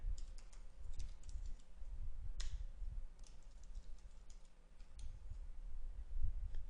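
Quiet, irregular clicking of keys on a computer keyboard, typed in short bursts with brief pauses, close and soft against a low room hum.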